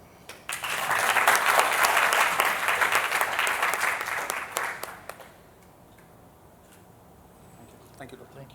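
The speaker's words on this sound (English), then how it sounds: "One more clap." Workshop attendees clap after a memorial trophy is presented at an ECMO workshop, a dense burst of crowd applause that swells quickly, holds for several seconds, then drops away to quiet room noise.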